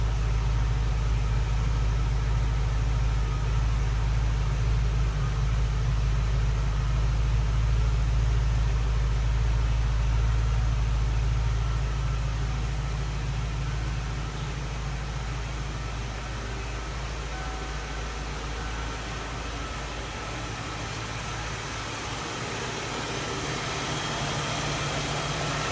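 A deep, rumbling 1992 Ford Thunderbird LX 5.0 V8 exhaust idles steadily and loudly throughout, its low throb easing slightly partway through before settling again.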